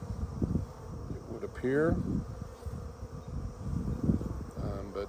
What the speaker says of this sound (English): Frame 3 has bees.